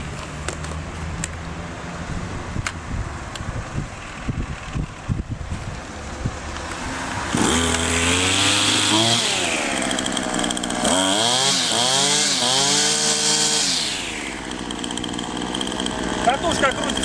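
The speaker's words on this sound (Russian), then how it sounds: "Сейчас мы заведем ее и покусим." A petrol grass trimmer, just repaired after a broken drive shaft, is started after some handling noises. The engine then runs close by, revving up and down loudly with a buzzing, chainsaw-like whine before settling to idle.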